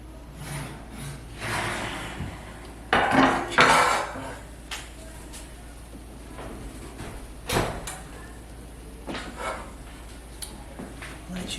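Oven door opening and a baked mac and cheese dish being drawn out, with clanks of dishware and a rolling rack, a few scattered knocks and a louder clatter partway through, in a quiet home kitchen.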